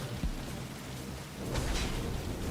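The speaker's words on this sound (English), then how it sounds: "It's raining." Rain pours in the Division 2 video game, a soft continuous hiss of falling water with a low rumble, swelling slightly louder in the second half, no speech.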